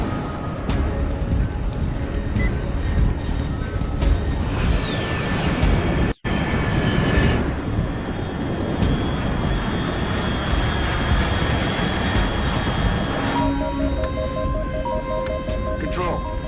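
Aircraft flying high overhead in the Metal Gear Solid Delta: Snake Eater video game: a continuous loud engine roar and drone holding throughout, with a brief cut midway and some tonal whines, alongside game sounds.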